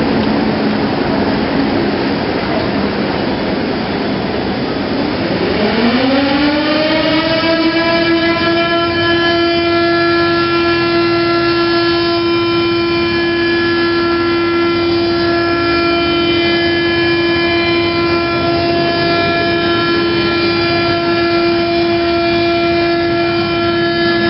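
A small Brazilian electric siren with an eight-point rotor winds up from a low growl into a loud, steady wailing tone, holding a sustained pitch for a long stretch nearby.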